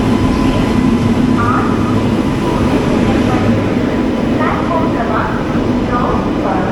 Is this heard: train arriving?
yes